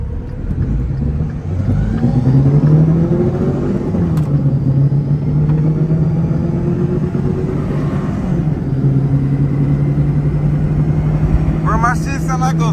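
A turbocharged car engine drones loudly nearby and rises and falls in pitch as it revs. People talk over it throughout.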